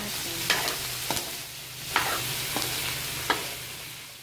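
Sliced hot dog is stirred in a frying pan over a low, steady sizzle, with several distinct spoon scrapes and clinks against the metal spaced a second or so apart.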